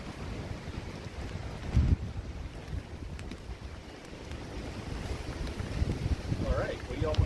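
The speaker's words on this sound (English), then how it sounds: "The banners are blowing down, and it's getting windy." Wind blows at an outdoor vigil, giving a steady rumbling buffet across the microphone with a few stronger gusts, while voices are faintly present underneath.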